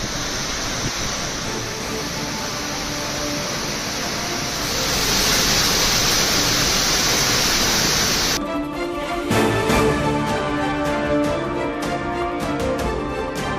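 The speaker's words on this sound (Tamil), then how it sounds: "ஒகேனக்கல் அருவிகளில் வெள்ளம் ஆர்ப்பரித்து கொட்டுவதால் குளிக்க தடை." Floodwater roars over the Hogenakkal waterfalls in a loud, continuous broadband rush, which cuts off abruptly partway through and gives way to quieter, fainter sound.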